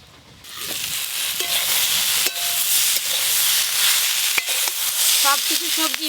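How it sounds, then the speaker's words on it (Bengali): Vegetables fry and sizzle hard in hot oil in a pan for a Bengali home-cooked dish, with a loud, continuous crackling hiss, occasional stirring knocks and a few faint voices in the background. "সব কিছু সবজি বেশ ভালো করে ভাজা ভাজা হয়ে গেছে।"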